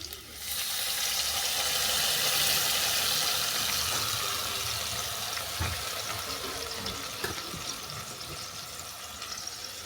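A small amount of water poured into a pan of browned fried potatoes for a no-spice methi shaak chorchori, a loud steady hiss and sizzle with rushing water noise that swells early and holds for about ten seconds, no voices.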